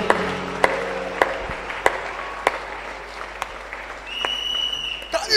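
A church congregation at a fasting and prayer service claps for Jesus in sharp, rhythmic bursts, with shouts and raised voices in a reverberant hall.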